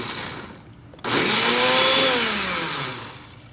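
Blender grinding fresh garden horseradish with water, a quieter whir that jumps into a loud, steady high grinding roar with a pitch that slowly drops as the mixture thickens.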